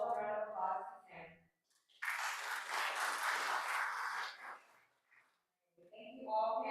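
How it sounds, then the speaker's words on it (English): A panel audience breaks into a short burst of applause that swells quickly and fades after a few seconds, with a speaker talking before and after it. "So please give a warm welcome round of applause to Tim."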